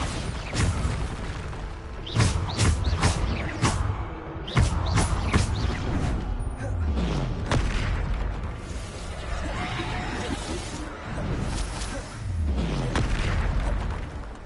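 Bombarda explosion spells cast in Hogwarts Legacy, a rapid series of booming blasts and crackling impacts layered over continuous game music and effects.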